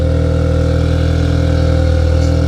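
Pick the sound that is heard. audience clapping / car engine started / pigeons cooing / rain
car engine started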